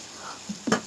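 Tempered whole spices crackle in hot oil for a Bengali cabbage stir-fry as a spoon scrapes through them, giving a soft hiss with a couple of quick stirring knocks near the end.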